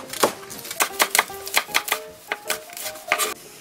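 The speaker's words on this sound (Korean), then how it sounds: "쪽파는 한 대만 준비하시면 돼요. 송송송송 썰어주세요." A knife chops green onion on a cutting board in a brisk, uneven run of sharp, close taps, about a dozen, with no talk.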